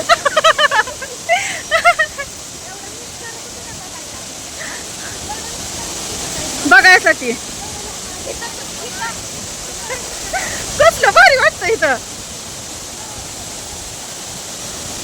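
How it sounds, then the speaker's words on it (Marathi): Constant broad rushing roar of Thoseghar waterfall fills the scene, with a few people talking briefly over it. "बघा कसला भारी धबधबा किती पाणी वरून पडतंय"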